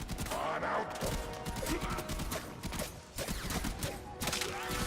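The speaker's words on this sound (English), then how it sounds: "This rifle just feels good. It's nicely accurate, it's good for getting those headshots" Rifle fire in the video game Warframe comes as rapid, steady bursts of shots with mechanical clicks, dense and continuous at close range, with faint talk underneath.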